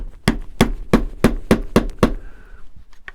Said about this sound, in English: as this bevel on the chisel seems to fit this very nicely, I am going to just tap it in slightly